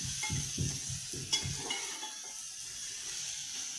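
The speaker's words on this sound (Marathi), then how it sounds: "आता हा असा थोडा पावटा आपल्याला चांगला असा भाजून घ्यायचा आहे तेलामध्ये, त्या मसाल्यामध्ये" Pavta beans frying in oil and masala, a steady sizzle with several soft stirring scrapes of a spoon in the pan near the start, then a continuous hiss.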